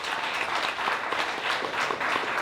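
Meeting audience applauding together, a steady continuous wash of clapping that swells and dips slightly, fairly close and with no talk over it.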